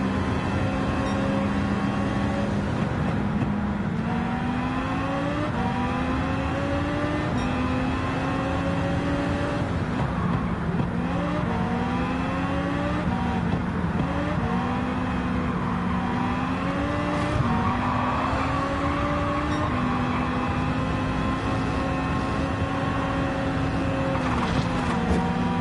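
A Citroen race car in a racing video game revs through repeated rising engine whines as it shifts gears, a continuous close-up roar lasting throughout without speech.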